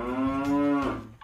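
A mother cow moos once, a loud, sustained low call lasting about a second, close by and alone, at a cattle tagging where a rider on horseback moves the cow away from her calf.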